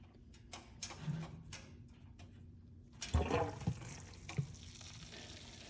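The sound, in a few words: hot water added to pumpkin pie beer mash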